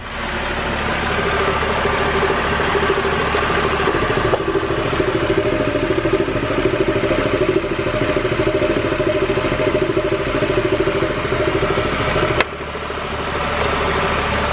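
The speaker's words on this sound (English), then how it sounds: "you're supposed to let the engine idle for around 15 minutes" A car engine idles steadily at close range after an engine oil flush additive is added, a constant low rumble with a faint regular knock, running evenly throughout with no talking.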